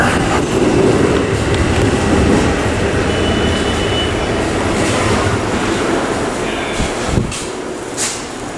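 A New York subway train rumbles steadily past at 61st Street–Woodside station with a dense, broad roar of wheels and rails, easing off slightly toward the end.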